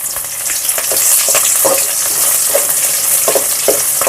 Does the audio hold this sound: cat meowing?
no